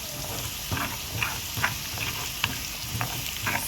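A garlicky tasha tempering for mulukhiya and okra weka spits and crackles in a pan, a dense continuous sizzle dotted with sharp pops, close and fairly loud with no talking.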